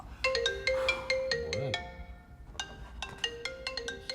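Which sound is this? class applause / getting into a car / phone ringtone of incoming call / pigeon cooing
phone ringtone of incoming call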